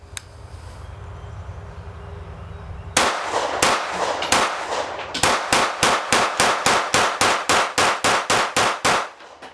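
Taurus G3 full-size pistol fired rapidly on a range, a sharp loud shot at about three seconds followed by a fast, evenly spaced string of roughly fifteen loud bangs, close and with no talking.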